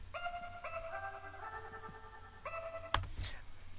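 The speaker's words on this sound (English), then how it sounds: "the second instrument that comes in halfway through is this bell" A bright bell tone doubles a piano melody in a lo-fi beat, a few clear sustained chiming notes in a slow phrase, fairly quiet and close, ending in a sharper percussive hit.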